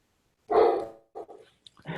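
A neighbor's dog lets out one loud bark, then a few shorter, quieter barks and yelps, nearby and with no talk over them.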